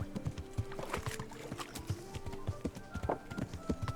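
Horse hooves clip-clopping in the video game Kingdom Come: Deliverance, a steady run of close, distinct hoof strikes on hard ground, quiet overall, with faint game ambience and an occasional tonal hum beneath.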